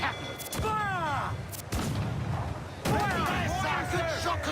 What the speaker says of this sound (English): These guys definitely fill the cannons quicker than Connor's men